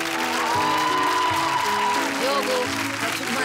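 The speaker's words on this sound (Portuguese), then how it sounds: "Um salve de palmas" A studio audience at a televised children's singing competition claps in a steady wash of applause while a host speaks over it.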